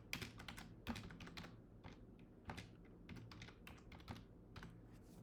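A computer keyboard being typed on at a Linux terminal, with quick uneven bursts of close key clicks over a low steady hum and no talking.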